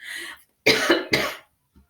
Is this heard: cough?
yes